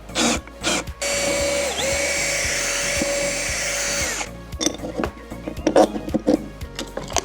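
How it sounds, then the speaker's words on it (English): Handheld power drill whirring steadily for about three seconds, with a pitch dip partway, then stopping; clicks and handling clatter before and after, in an indoor workspace while a register setup is being assembled. "Drills."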